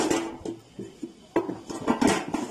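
Metal lid clattering onto a cooking pot of meat, a few close clanks and scrapes as it settles into place.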